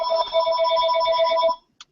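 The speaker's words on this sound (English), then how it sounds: "sorry about that ringing phone" A telephone rings nearby with a bright, warbling electronic trill that lasts about a second and a half, stops abruptly, and then gives one brief blip.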